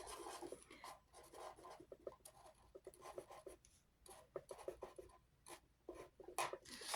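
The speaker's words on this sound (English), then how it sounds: "Okay, so I'm just gonna draw the first increase." A pen scratches across paper in close, quick strokes and short pauses, faint and intimate, with no talking, while stripe increases for a knitted yoke are drawn out.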